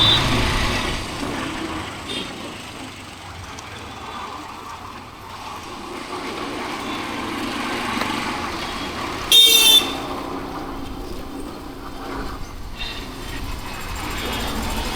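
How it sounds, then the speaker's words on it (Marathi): Busy road traffic on a dug-up road, with a constant low rumble of vehicles, engine noise rising and falling, and one short horn blast toward the middle. "हे बघा गाईज आपलं स्वागत करता आहे ट्रॅफिक."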